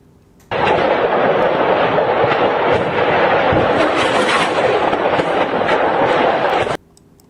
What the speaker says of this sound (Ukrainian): буквально кілька секунд детонації боєприпасів ворожих у Мелітополі